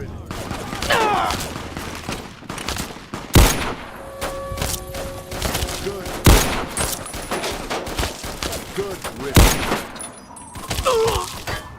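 Fallout 3 gunfire: several heavy, booming shots and thuds from the video game ring out every few seconds among other game effects, with people talking over them.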